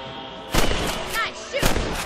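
Gunshots fired at rabbits in the video game Red Dead Redemption, set on a 1911 frontier property: two sharp, loud reports about a second apart over a low background hum.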